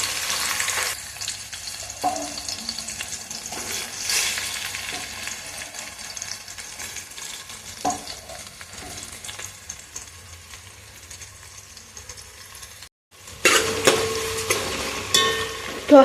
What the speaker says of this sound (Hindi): तो यहाँ तेल डाली मैं और इसमें थोड़े खड़े गरम मसाले डालती हूँ। और इसमें प्याज डालेंगे